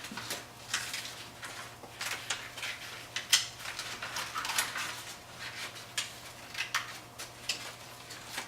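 Scissors snip through paper to cut out a cut-out brain, giving a steady run of short, crisp cuts close by, with no voices.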